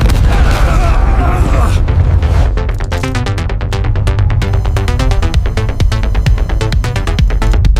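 A huge simulated explosion and fireball rolls out as a loud, continuous deep rumble with booming bursts layered through it, dense and sustained for the whole stretch.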